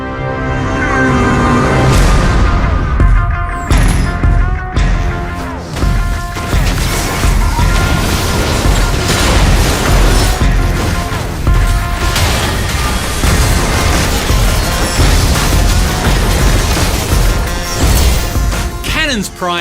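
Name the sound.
cannons firing in the video game League of Legends: Wild Rift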